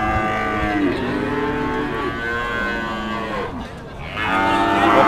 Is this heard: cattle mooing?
yes